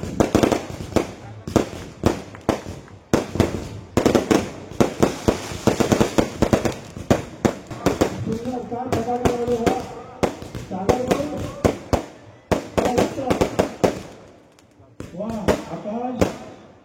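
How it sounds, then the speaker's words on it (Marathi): Fireworks and firecrackers going off at a Narakasur effigy-burning celebration on a town ground, a rapid irregular string of sharp bangs and cracks with short pauses, while someone talks over a loudspeaker. "वा सुंदर फटाके आणले त्यांनी छान."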